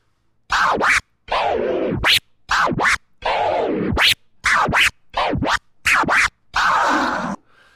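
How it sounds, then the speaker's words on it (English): DJ baby scratches on a turntable cut back and forth in short bursts, some quick and some drawn out, with brief gaps between each stroke and no talking. "we essentially just have some fast and slow baby scratches before we go ahead and drop on the one"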